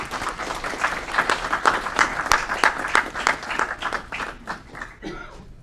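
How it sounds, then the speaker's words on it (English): A meeting audience at the Aurora Committee of the Whole gives a round of applause for Mike Nelson, the city's Community Events Director, with moderate, uneven clapping from a small room that tapers off toward the close. "Big round of applause for Mike."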